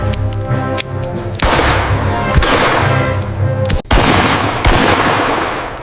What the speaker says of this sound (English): a gunshot shattered the night